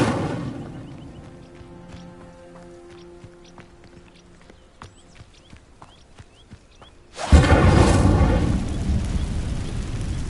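Incendio fire spell from Hogwarts Legacy bursting into flame against dry vines: quiet game ambience and small clicks give way to a sudden loud roaring whoosh of fire that sustains to the end.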